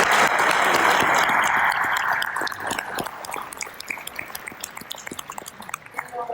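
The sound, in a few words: audience applause for educators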